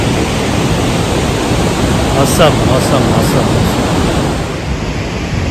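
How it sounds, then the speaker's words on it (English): Barachukki waterfall near Shivanasamudra in Karnataka, a roughly 300-foot fall, gives a steady, broad rushing roar with wind buffeting the microphone, while someone speaks briefly over it. "Lovely waterfall behind. Look at the waterfall."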